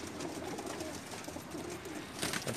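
Pigeons at a rooftop loft in Jeddah, Saudi Arabia, give soft cooing calls over steady outdoor hiss and wind, fairly close but quiet, with no talking.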